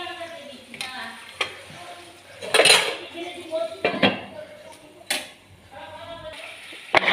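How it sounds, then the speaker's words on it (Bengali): Khichuri being stirred and sautéed in a pot, with loud close metal spoon scrapes and clanks against the pot at irregular intervals over a light sizzle. "এবার এটাকে পুরো একটুখানি এটাকে কষাবো"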